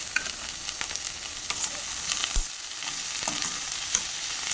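Sliced okra sautéing in a pan on a low flame, a steady soft sizzle with occasional faint stirring taps and scrapes, close by and continuous without any voices.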